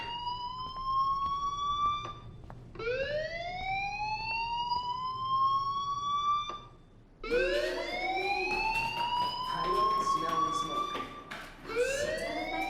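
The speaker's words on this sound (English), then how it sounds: "do you hear that fire alarm? That means you should be outside." Rising, wailing electronic fire alarm from the video game Life Is Strange, sweeping upward in repeated cycles with short pauses between, loud and steady over a low background hum.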